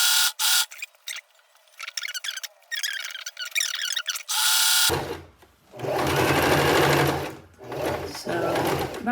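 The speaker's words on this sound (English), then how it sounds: "And then we're gonna backstitch a couple times" A sewing machine stitches scrunchie fabric, first in short bursts, then in long steady runs with a brief reverse for backstitching, the motor whirring close and loud while someone talks in between.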